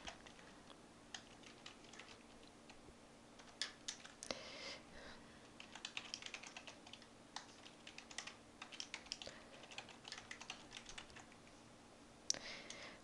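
Quiet, close typing on a computer keyboard while a new user account is filled in, with scattered irregular key clicks and short bursts over a low steady background hum.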